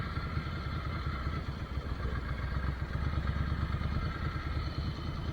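A Ducati Monster 797 motorcycle engine idles steadily at close range, a continuous low rumble with light mechanical clatter that holds even throughout, with no speech over it.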